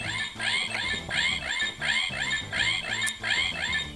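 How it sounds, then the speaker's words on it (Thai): A DX Dino Brace transformation toy from Abaranger plays its communication-mode sound effect: a loud, repeating electronic warble of chirping, squeaky tones that cycles about twice a second in a steady loop, close to the listener. "มันก็เป็นโหมดเอาไว้ติดต่อสื่อสารคุยกับเจ้าหน้าที่อีกฝั่งนึงที่ส่งข่าวสารมาให้เรา"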